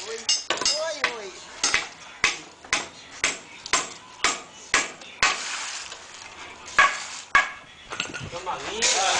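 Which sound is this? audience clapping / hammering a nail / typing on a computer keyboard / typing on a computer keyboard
hammering a nail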